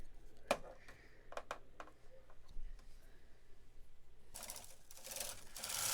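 A flatbed knitting machine carriage knitting a row while a sweater is being made: scattered clicks and clacks at first, then a loud sustained rattling whoosh as the carriage sweeps across.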